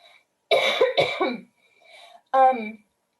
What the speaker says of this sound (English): I just have to cough.